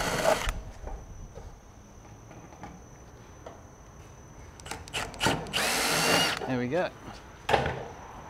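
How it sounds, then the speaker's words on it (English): A power drill reams out rivet holes in a Colorbond steel gutter on timber fascia, with several short whirring bursts and one longer high-pitched grind midway, separated by quiet pauses and light handling noise. "So you just need to drill out those holes a bit more."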